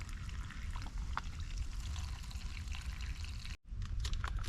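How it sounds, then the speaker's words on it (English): Water pours steadily into a soft drinking flask on a hike, a close, gurgling stream with a brief break before pouring resumes. "fill it up with water"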